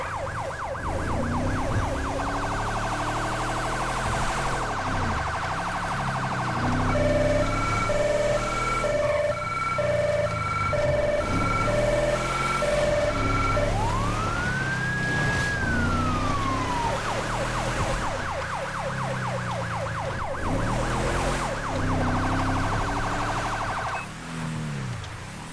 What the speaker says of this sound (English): Still using the Federal Signal Delta siren.